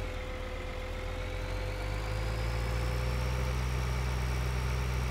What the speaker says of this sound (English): Why is this tractor go so slow?